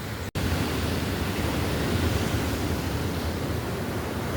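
Steady broadband roar of sea surf breaking along the shore at Blanchisseuse, loud and continuous with no distinct individual wave crashes, a brief cut near the start.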